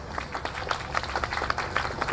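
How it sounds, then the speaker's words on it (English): A small audience claps together, a dense patter of hand claps sustained for a couple of seconds. "I think that they deserve an applause"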